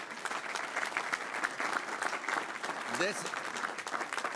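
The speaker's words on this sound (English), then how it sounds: "Tanya really should be given a hand of applause" A committee markup room breaks into steady applause for the clerk, a sustained wash of clapping with a brief spoken word near the end.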